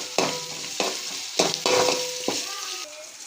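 Onions, curry leaves and a little salt sautéing in a pan for an eggplant and dried fish curry, a loud close sizzle broken by about five rhythmic scraping stirs of a spatula.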